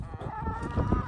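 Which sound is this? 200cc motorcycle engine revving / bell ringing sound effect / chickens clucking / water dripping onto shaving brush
chickens clucking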